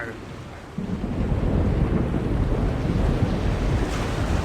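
A chaos storm in The Longest Journey roars in suddenly with heavy wind, crashing waves and rumbling thunder, loud and continuous.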